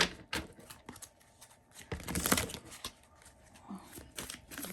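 Tarot cards shuffled by hand for a spring pick-a-card reading, giving soft papery rustles and crisp flicks in uneven bursts, close and fairly quiet, with no talking.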